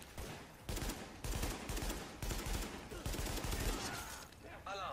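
Dense automatic gunfire and rapid shots from The Division on PS4, loud and continuous for several seconds with bursts overlapping, faint voices underneath.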